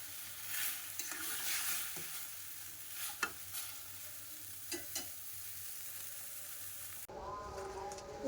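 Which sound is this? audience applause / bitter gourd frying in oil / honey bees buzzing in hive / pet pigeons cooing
bitter gourd frying in oil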